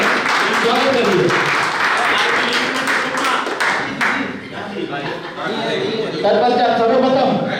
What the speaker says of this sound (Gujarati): ત્યારે આપણે તાળીઓ સાથે આ ટુર્નામેન્ટમાં ઓપ્શનનું સ્વાગત કરીએ